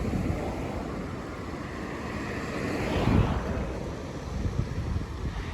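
Water pours through the opened spillway gates of Mangla Dam into the Jhelum River, a steady broadband rushing roar outdoors, swelling briefly midway, with wind buffeting the microphone.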